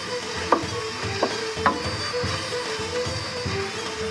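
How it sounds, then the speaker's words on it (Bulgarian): Food being stirred in a hot frying pan on a home stove, with a steady sizzle underneath and a few sharp scrapes and knocks of the utensil against the pan, close and fairly loud, no talking. "Разбъркваме също."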